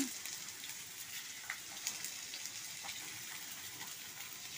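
Brinjal pieces sprinkled with salt frying in a pan, giving a steady, soft sizzle with faint crackles throughout and no talking.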